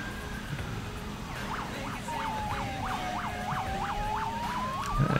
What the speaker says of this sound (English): Dual siren? Sounds like dual siren, like Yelp.